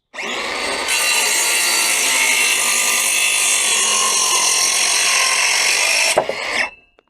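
Timber gravel board cut through in one continuous pass: a loud, steady, close saw whine lasting about five seconds, then a brief clunk as the cut finishes and the sound dies away, no talking.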